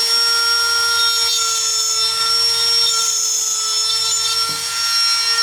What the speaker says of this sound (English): So that's why I really love a Dremel. The Dremel is a fantastic tool, to say the least.